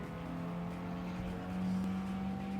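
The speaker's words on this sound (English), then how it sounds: "The Mazda RX-7 tried to overtake." Mazda RX-7 in a Gran Turismo 7 race, a steady droning engine hum that swells briefly as it tries to overtake, with no voices.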